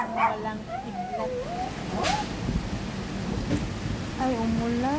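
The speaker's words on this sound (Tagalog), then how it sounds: "Ay, umulan. May kidlat dati." Rain falls steadily outdoors during a storm while thunder rumbles low in the background, with a dog whimpering and barking nearby and a few distant voices.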